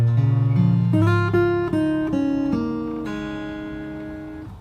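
A bar of a song is played fingerstyle on an acoustic guitar, a clean run of plucked notes and a low bass note that ring on together, close and alone with no talking.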